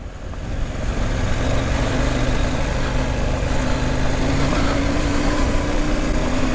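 KTM 790 Adventure middleweight adventure motorcycle riding over gravel, its engine holding a steady, smooth drone with a low rumble and constant wind and road noise throughout, close and loud, with no talking.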